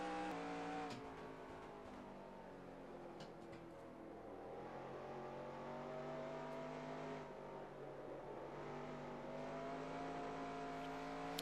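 Simulated race car engine from NR2003 at Nazareth, 1990 Busch Series, droning steadily with a sustained harmonic whine that rises and falls slightly through the laps, loud and continuous with no talk.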